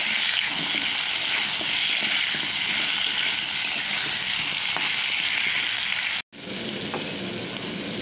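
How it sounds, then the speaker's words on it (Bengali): Potatoes and pumpkin sizzle steadily in hot oil for a vegetarian dish, a dense, continuous frying hiss with a brief dropout near the end. "আলুর সঙ্গে কুমড়োটাও ভাজা হয়ে যাবে।"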